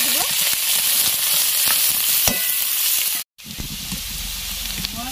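Chopped onion and three green chillies fry in a small amount of hot oil, a loud, continuous close sizzle that cuts out briefly and then resumes.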